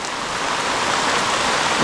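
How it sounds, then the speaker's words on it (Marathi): Steady, dense hiss of heavy rain pouring down, a continuous wash of noise with no distinct drops, close and fairly loud throughout. "ही बघा जोरदार पाऊस आला आहे"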